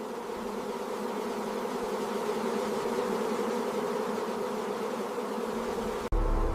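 Bees swarm around a giant hive in a dense, continuous buzzing drone. It is loud and steady throughout, with an abrupt break just before the end.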